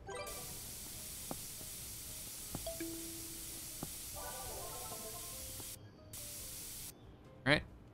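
A spray can hisses during play in Internet Cafe Simulator 2, a steady broadband spray running for several seconds with short pauses and small interface clicks over it.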